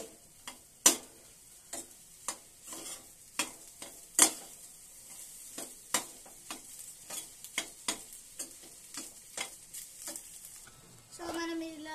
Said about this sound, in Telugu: సో దీన్ని మనం మంచిగా మిక్స్ చేయాలన్నమాట హై ఫ్లేమ్లో పెట్టి.